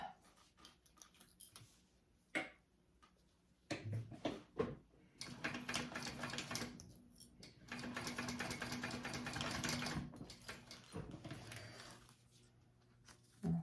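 A sewing machine bastes a fabric tab for a Daythum sling, its motor whirring in several bursts of stitching separated by short pauses and handling noises, close and moderately loud.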